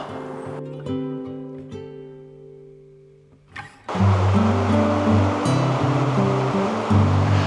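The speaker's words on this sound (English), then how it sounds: "Behind me is a weir that controls the rate of flow of the river through the public park" River water pours over a weir that regulates flow through a public park in Congleton; a loud, continuous broadband rush swells in partway through and stays steady to the end.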